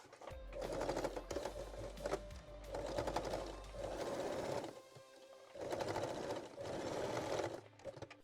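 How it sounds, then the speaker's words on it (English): A sewing machine top-stitches the front crotch seam of full lace panties in several steady rapid bursts of needle chatter, each lasting a second or two and separated by short pauses, heard close up with no talking. "you can top stitch the front crotch seam"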